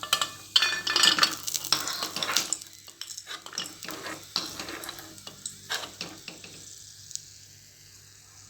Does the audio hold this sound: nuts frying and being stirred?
yes